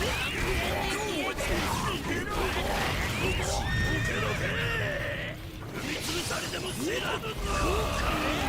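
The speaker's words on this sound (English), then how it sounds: "damn vampire horses" Vampire horses in a video game whinny and neigh repeatedly over clip-clopping hooves and thuds, with a person talking and exclaiming throughout.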